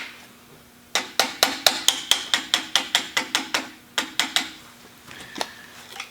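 A rear sight is drifted into a Winchester 1886 rifle barrel with a hammer, a close run of about fifteen bright metallic taps in steady rhythm, a short pause, then a few more strikes and light handling.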